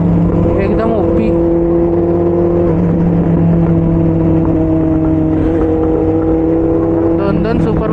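Two Benelli superbikes cruise along a road, their engines a loud, continuous drone mixed with rushing wind, with a brief rise in pitch near the end.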